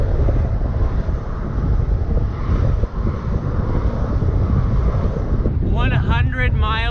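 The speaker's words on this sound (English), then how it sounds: "Wind is unforgiving" Heavy wind buffeting a microphone on a long road bike ride, a steady loud roar throughout, with someone speaking briefly near the end.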